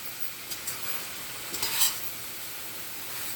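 Vegetables stirred in a frying pan with hot oil for gongura vegetable biryani, a steady soft sizzle with a few scraping spoon strokes, close and moderately quiet, no voices.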